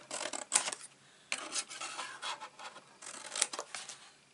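Scissors cut paper for a handmade chocolate gift box, producing quiet, close snips and papery rustling in irregular bursts, with no voices.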